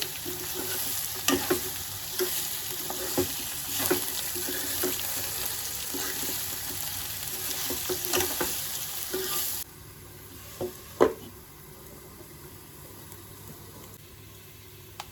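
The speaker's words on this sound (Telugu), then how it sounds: "సొరకాయ ముక్కలు వేసుకొని బాగా కలుపుకోవాలి." Bottle gourd pieces fry in a pan for a green chilli curry while a spoon stirs them. A steady sizzle runs under repeated scraping strokes, then quietens partway through. Nobody speaks.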